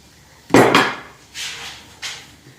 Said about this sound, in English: Clamping it in position.